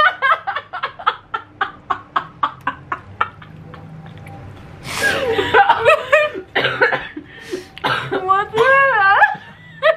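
A rapid series of about a dozen short, evenly spaced coughs, followed by excited chatter and squeals from a couple of people close by.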